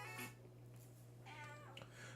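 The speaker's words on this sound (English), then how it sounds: "did you hear that girl meow?" A cat meows softly a couple of times, faint and close, over a low steady electrical hum.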